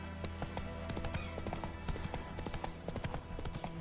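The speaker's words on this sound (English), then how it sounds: "Run, Roach" Horse hooves galloping in The Witcher 3 video game, a steady rapid clip-clop rhythm of hoofbeats running throughout over a dense game soundscape.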